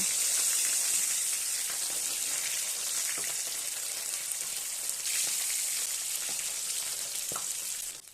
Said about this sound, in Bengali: মাছগুলোর এক পিঠ ভাজা হয়ে গেছে এবার আমি মাছগুলোকে উল্টে দিলাম